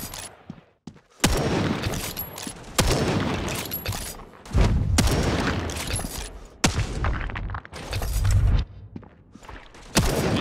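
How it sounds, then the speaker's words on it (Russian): Loud bursts of gunfire and booming explosion blasts from the video game World War Heroes come in repeated heavy volleys, separated by brief quiet gaps. "Сейчас будет взрыв."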